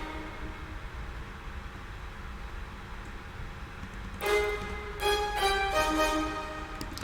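A synthesized violin part in an electronic music production enters after a few seconds of near-quiet, playing sustained layered notes that swell and shift over the final stretch, with no voices.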